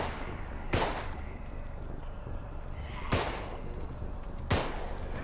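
Three sharp gunshots from the zombie shooter game Contagion, spaced irregularly over a steady low background hum, each a loud crisp crack standing out clearly with no talking.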